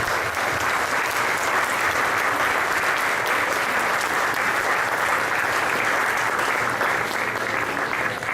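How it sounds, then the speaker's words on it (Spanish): A church congregation applauds in a full, sustained, even wave of clapping that fills the room without pause. "Denle un aplauso al Señor."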